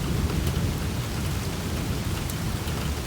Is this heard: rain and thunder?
yes